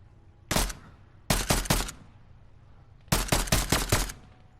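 Fortnite gunfire ringing out in three separate volleys: a single shot, a quick burst of three, then a rapid string of five or six, each crack loud and close against near silence.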